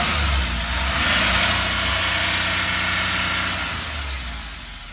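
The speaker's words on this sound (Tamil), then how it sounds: "இன்ஜின் நாய்ஸும் நல்லா இருக்குது." An Ashok Leyland Bada Dost truck diesel engine runs steadily at idle, a low rumbling drone that holds even before easing slightly toward the end.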